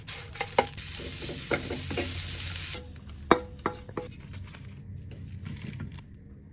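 Grated coconut and spices dry roasting in a pan for chicken sukka, a bright sizzling hiss with sharp spatula taps and scrapes that fades to quieter stirring and scattered clinks, close, with no voices.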